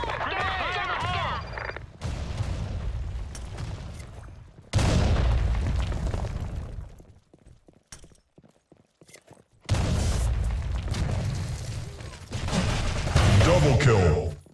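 Loud explosive blasts and gunfire from the online shooter game Blackshot, coming in dense, booming bursts separated by a brief lull, with game sound effects and voice callouts throughout.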